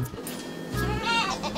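A goat bleats loudly and close by in a rising, wavering call, with faint talk in the background.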